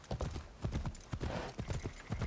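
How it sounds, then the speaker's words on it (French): Horse hooves clip-clopping at a steady walking rhythm in the video game Assassin's Creed Shadows, close and fairly quiet, with a faint voice in the background. "Si seulement il pouvait aller plus vite, ce cheval-là."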